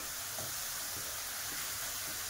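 Bengali prawn curry masala sizzling and frying in a pan, a steady close hiss with faint periodic stirring scrapes, no voices.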